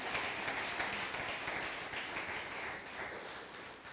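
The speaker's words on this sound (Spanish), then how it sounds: "Vamos a darle un aplauso a la presencia de Dios en nuestra vida" Steady applause from a church congregation during a sermon, dense and sustained throughout with no pause, fairly distant and even in level.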